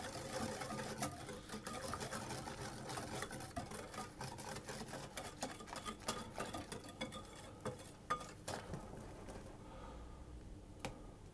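An electric mixer blends dry ingredients into a Dutch spiced breakfast bread batter, a steady whirring hum with irregular ticks and patters of the beaters against the bowl.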